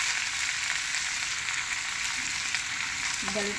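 Mint and coriander leaves fry in a pan with a steady, close hiss of sizzling that runs unbroken throughout, with a small clink of a utensil near the end.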